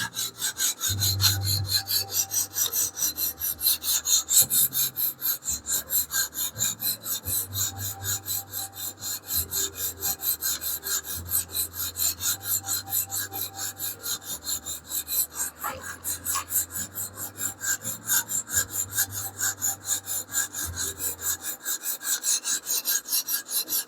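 A coated knife blade, DLC, Cerakote or PVD type, being sharpened on a TSProf guided system, with rhythmic back-and-forth rasping strokes repeating steadily, close and even, with a low hum underneath for part of the time and no talk.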